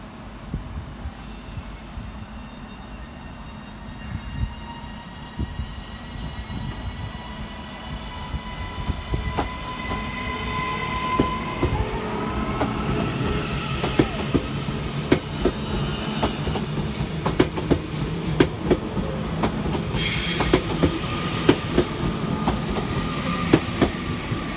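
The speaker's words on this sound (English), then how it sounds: "Departing 10 minutes late is 331110 with the 1704 Northern service of Liverpool Lime Street through to Manchester Airport." A Northern class 331 electric train, unit 331110 on a late Liverpool Lime Street to Manchester Airport service, pulls out of Manchester Piccadilly, its motors whining and rising in pitch as wheels clatter steadily over the rails for about twenty-five seconds.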